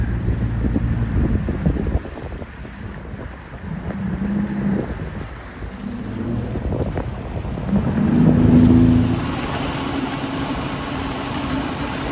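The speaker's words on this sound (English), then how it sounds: "we are getting out on my brother-in-law's jet skis" A jet ski engine drones steadily over water, rising and falling in pitch, with heavy wind buffeting the microphone throughout.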